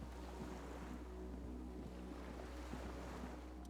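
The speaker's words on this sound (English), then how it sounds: "The skiff is swaying on the water." A skiff rocks on the water in Disco Elysium, heard as a steady, soft wash of lapping water and faint wind with a low constant hum beneath, no voices.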